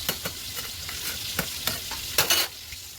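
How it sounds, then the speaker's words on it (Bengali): Pumpkin and potato pieces fry in hot oil in a pan, a continuous close sizzle broken by several sharp stirring scrapes and clinks. "এখানে বসে দিয়েছি কুমড়ো আলু, এখন ভাজা করছি, ভাজতে বসে দিয়েছি"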